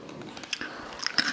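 Bites into a crunchy vegan dark chocolate snack, a short run of close, crisp crunches and chewing crackles, with a few sharper snaps near the end and no talk.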